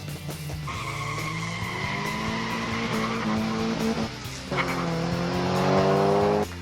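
Modified 1/64 diecast muscle cars, a jacked Chevelle among them, race down a toy track with loud, continuous rolling and whirring over a steady hum, rising in pitch and intensity toward the end.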